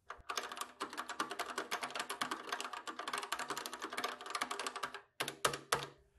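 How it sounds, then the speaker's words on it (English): Typing on the long-travel MaxiSwitch keyboard of a Kaypro 4 Plus 88 computer: a fast, continuous run of close, crisp key clicks and clacks, then a brief pause and a few final strokes. "Key travel is fairly long, and it feels good to type on."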